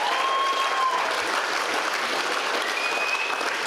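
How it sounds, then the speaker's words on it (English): Sustained applause from an audience at a football and netball club awards night for a medal winner, dense and steady clapping throughout with a faint tonal whistle or squeal above it. "ladies and gentlemen, round of applause for Jackson East"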